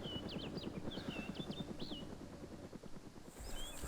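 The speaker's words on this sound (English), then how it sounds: "as I got there I suddenly started to hear a chopper overhead" A helicopter passes overhead in the video game DayZ, its rotor giving a steady, rhythmic low chopping that continues through the whole stretch at an even, moderate loudness.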